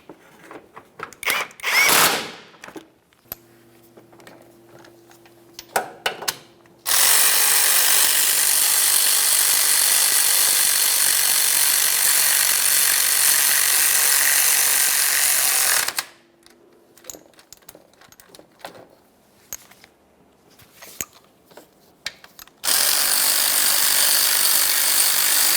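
A power tool runs in two long, steady, loud bursts, snugging up the torque strut mount bolts on a 2012-2015 Honda Civic 1.8L L4, with quiet clicks and handling noises between them.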